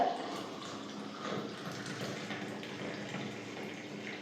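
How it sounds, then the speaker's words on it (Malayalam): Tea poured into a glass, a soft, continuous trickling stream of liquid heard faintly and close, with no voices over it. "ചായ ഇങ്ങനെ ഒഴിക്കുന്ന കാണാൻ എനിക്ക് ഭയങ്കര ഇഷ്ടമായിട്ടോ"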